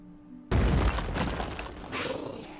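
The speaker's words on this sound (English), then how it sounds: "I'm going to need a grenade again." A grenade explodes in the strategy video game Phoenix Point, bursting with a sudden heavy boom that rolls into a long rumbling, crackling blast and then debris-like hiss fading out.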